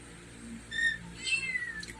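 A cat meows a few times, short and plaintive, fairly close in a quiet room.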